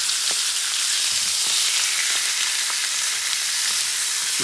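Top sirloin steak sizzles in a pan on the stove, a loud, steady close-up hiss with scattered small pops and crackles throughout and no talking.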